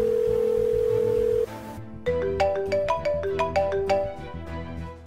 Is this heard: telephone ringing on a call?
yes